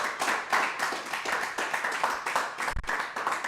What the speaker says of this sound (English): Clap it up for Killeen, Texas.